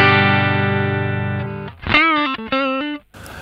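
Electric guitar played through a Wampler Tumnus Deluxe overdrive pedal in true bypass into a clean amp: a long sustained chord ringing out, then a few quick plucked notes with slight bends, close and alone.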